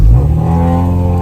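The B16A engine of a Honda Civic EK revs hard, close and loud, its strong harmonic tone settling into a steady high-rpm drone.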